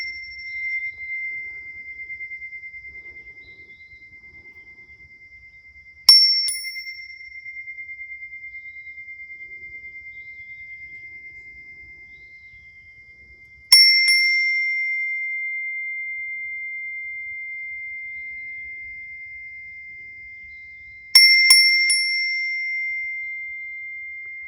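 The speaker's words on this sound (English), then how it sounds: "I'm going to ring the bell." A bell rings three times at Serpent Mound, each strike a bright, clear ding that lingers in a long, pure, slowly fading tone before the next stroke, spaced several seconds apart with no talking.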